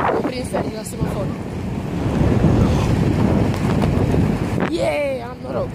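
Strong wind roars and buffets the microphone continuously, with a brief voice breaking in near the end.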